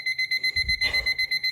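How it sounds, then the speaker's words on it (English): A loud kitchen timer set beside an oven while gluten-free cinnamon rolls bake, beeping in a fast, regular pulse of shrill tones, with a brief low knock partway through. "that's a really loud, obnoxious timer"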